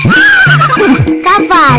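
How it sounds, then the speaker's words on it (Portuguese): A loud, close horse whinny with a quavering, rising-and-falling call lasting nearly two seconds. "Cavalo."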